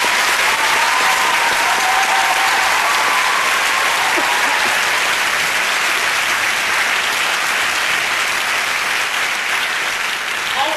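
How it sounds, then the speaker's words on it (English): Graduation audience applauding at a 2009 NUS commencement ceremony, a dense, steady roar of many hands clapping that stays loud and continuous throughout, tapering slightly near the end. "Please join me in a round of applause"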